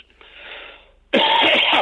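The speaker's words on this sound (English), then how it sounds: "pardon my cough" A quiet breathy throat sound, then one loud, harsh cough bursts out close by and rattles on to the end.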